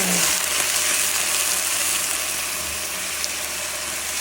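A steady, dense sizzle of jute leaf greens frying in a pan, loud and continuous throughout, with no pauses or talk.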